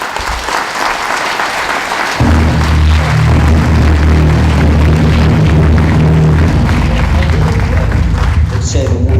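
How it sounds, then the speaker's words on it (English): Awards ceremony audience bursting into a warm round of applause, loud and sustained, joined partway through by booming music. "can I please ask you to give a warm round of applause to"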